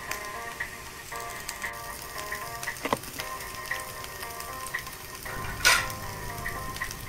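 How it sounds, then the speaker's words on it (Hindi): Salted potatoes fry in a pan for dhaba-style dry aloo dum, a steady close sizzle and crackle running throughout, dotted with small clinks and a brief louder burst near the end. "अब मैं इसमें थोड़ा सा नमक डाल के फिर से फ्राई करूंगी"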